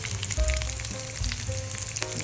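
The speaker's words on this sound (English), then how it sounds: "it's nicely frying up here" Salmon cakes sizzling and crackling in hot oil in a pan, a continuous close-up fizz with occasional pops and a few soft clatters.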